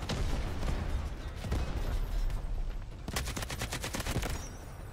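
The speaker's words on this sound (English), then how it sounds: "Shoot some rockets up the hill." Rapid bursts of gunfire and explosions from the video game Delta Force: Hawk Ops, with overlapping rifle shots and a dense volley of automatic fire near the end, loud and without speech.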